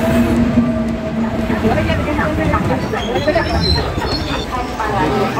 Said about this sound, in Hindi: हमारी ट्रेन आ चुकी है